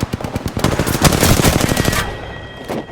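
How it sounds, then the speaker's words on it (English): Rapid automatic gunfire in the Apex Legends video game, loud and close, a dense burst of shots lasting about two seconds before dropping to quieter background game sound. "Taking fire."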